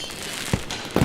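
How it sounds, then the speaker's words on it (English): Two sharp firework pops, played as a sound effect, crack out about half a second apart over a low background hiss. "firework sounds? We have them all."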